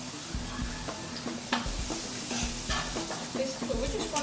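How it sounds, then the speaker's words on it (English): Food frying in a pan with a steady crackling sizzle, broken by the clatter of stirring and scraping utensils, close and continuous for a few seconds. "You know you're really cooking when you hear that sizzle."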